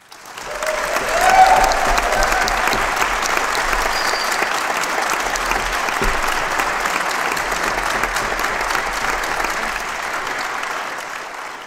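An audience at a Pashto music and poetry event gives warm, sustained applause for a singer, with a brief whistle early on and the clapping holding steady for over ten seconds.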